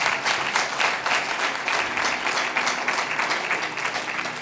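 A congregation at a Punjabi sermon claps loudly together, producing a steady, fast patter of many hands that lasts the whole stretch with no speech on top.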